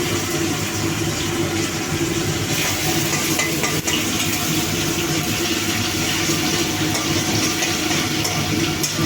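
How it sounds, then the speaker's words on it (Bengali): A fish head fries with ginger in hot oil on a stove, a loud, dense, continuous sizzle that holds steady throughout, close by, with no talk. "চুলায় মাছের মাথা দিচ্ছি আদা দিয়ে দিচ্ছি"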